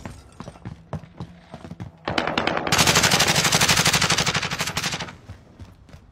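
Rapid automatic gunfire from a Call of Duty: Warzone match, starting with scattered shots, then swelling into a loud, dense burst of continuous fire for about three seconds before it cuts off.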